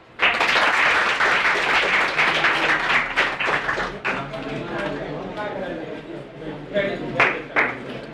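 Audience applause at a school prize distribution for Class XII arts students, a steady clatter of many hands fading slightly midway, with voices mixed underneath.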